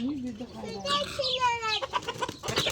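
A rooster clucks close by in a few rising, strained calls, mixed with people talking and laughing around it.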